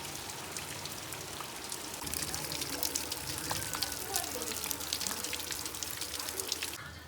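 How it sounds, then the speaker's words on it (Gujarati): Light monsoon rain falls in a village, making a faint, steady patter of drops on surfaces that grows slightly denser partway through, with a soft voice murmuring in the background. "થોડો ઘણો વરસાદ ને એવું આવે છે"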